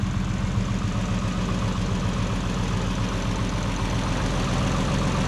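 A Chrysler 225 Slant Six engine fitted with a 2-barrel carburetor idles steadily at close range, giving a loud, even, rumbling drone with a regular low pulse and no voices.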